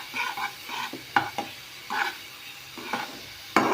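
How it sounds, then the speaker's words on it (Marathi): Ground onion and coconut masala frying in oil, a soft sizzle under repeated spoon scrapes and taps against the pan, close and uneven, with no voices. "कांदा खोबरं जे आपण वाटून घेतलेलं आहे ते आपल्याला आता मस्तपैकी ह्या ऑइलमध्ये छान असं फ्राय करून घ्यायचं आहे"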